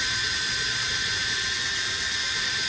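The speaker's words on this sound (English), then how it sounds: "you can see right there where the drill bit's drilling in" A drill bit bores through soft metal on a 2013 Ford F150, giving off a steady, high-pitched whine with a constant grinding hiss and no pauses, close and fairly loud with no voices.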